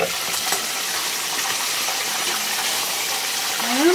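Chicken fillet frying in hot oil gives a steady, dense sizzle and crackle with soft bubbling throughout, close and even in level, with no talking.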